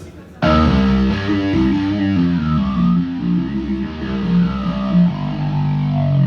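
A heavy, distorted Korg keyboard synth bursts in after a short pause and plays loud, gritty sustained chords in a rock setting.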